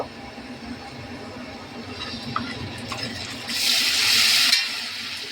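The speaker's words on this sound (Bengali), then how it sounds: "মশলাটা খুব ভালো করে কষে নেব" A masala of ginger, garlic, chili powder, sugar, food colour and salt fries in a pan for tandoori chicken biryani, giving a constant sizzle with stirring scrapes that swells into a louder hiss toward the end.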